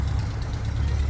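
A tractor engine drones steadily in paddy fields during rice planting, a low continuous rumble at moderate distance with no voices.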